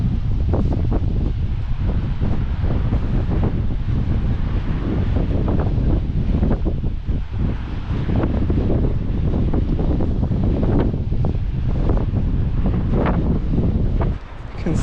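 Strong gusting wind roars across the microphone on a coastal walk, a loud continuous low rumble with faint surf-like wash beneath it, dipping briefly near the end.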